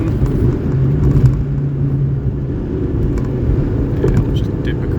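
A Suzuki Alto's engine drones in fourth gear, a steady low rumble with gradual acceleration and road noise inside the cabin, while a person talks over it.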